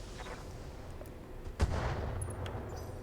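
Weapons fire in the BattleTech video game with the RogueTech mod, one sharp gunshot-like crack followed by a rumbling, booming tail over faint background game sound.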